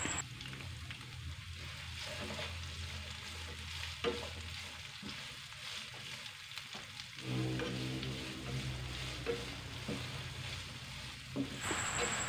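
Shallots, garlic and red chilies sautéing in hot oil in a pan for a spicy green-bean and meatball stir-fry: a continuous soft sizzling hiss that swells louder partway through, with faint stirring taps and no voices.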